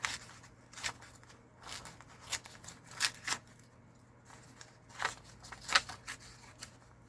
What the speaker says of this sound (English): I'm going to do the same thing, just kind of rip around the edges